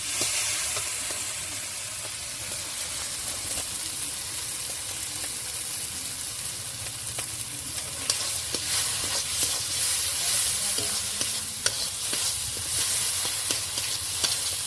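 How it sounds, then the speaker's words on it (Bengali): Spice paste with mustard paste and Kashmiri chilli is stir-fried in oil for a village-style shele fish curry, giving a continuous close sizzle with scattered scrapes of stirring that grow busier toward the end. "বন্ধুরা ভালো করে কষিয়ে নেবো তেলটা হাতে ছেড়ে যায়"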